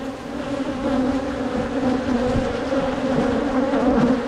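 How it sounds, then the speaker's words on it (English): Dozens of bees swarm close around a person, their buzzing a thick, unbroken hum that stays loud and even throughout. "there are bees all over me right now"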